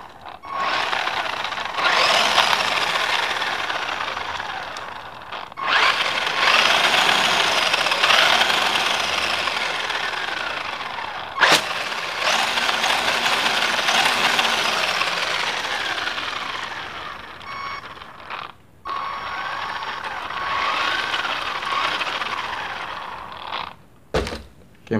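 A remote-controlled toy car's small electric motor whines in long, loud bursts that rise and fall as it drives, cutting out briefly between runs with sharp clicks and knocks, and no talk.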